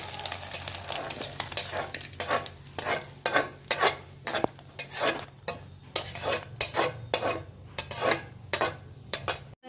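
A gourd mixture with lentils and egg fries in a pan while a spatula stirs it in steady, repeated scraping strokes over a continuous low sizzle, close and without speech.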